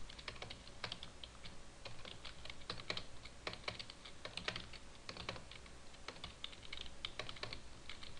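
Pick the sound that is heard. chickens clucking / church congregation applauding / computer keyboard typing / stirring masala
computer keyboard typing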